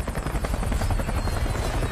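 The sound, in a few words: helicopter in the movie We Were Soldiers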